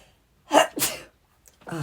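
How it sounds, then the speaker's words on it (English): A person sneezes in a sharp two-part burst, loud and close, then a voice starts to talk after a short pause. "I am still sneezing."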